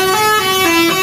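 A passenger bus in Indonesia sounds its horn in a loud, sustained blast lasting about a second, close by, with the tone shifting slightly partway through.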